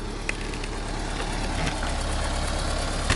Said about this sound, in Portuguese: O barulho que vocês ouvem não é cabeçote batendo, é só bico que é muito barulhento